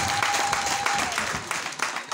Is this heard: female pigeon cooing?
no